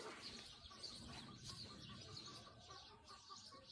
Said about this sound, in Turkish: Kayısı ağaçları, vişne ağaçları, doğal bir ortam, kuş sesleri.